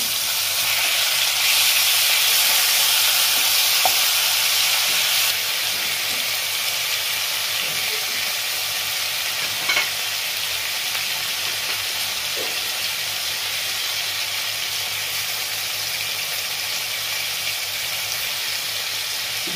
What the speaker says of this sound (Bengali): আমি মশলাগুলো কষিয়ে নিই